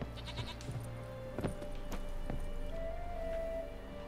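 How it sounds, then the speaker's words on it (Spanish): A goat bleats in The Witcher 3 video game, a long wavering call near the end over a busy mix of game ambience, thumps and footsteps, with earlier shorter bleats faintly in the background. "Mira, cabra."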